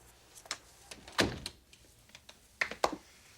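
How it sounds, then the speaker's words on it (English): A door closes with a solid thunk, followed by a few sharp clicks and knocks of it being locked, fairly close in a quiet indoor room. "Close the door and lock it."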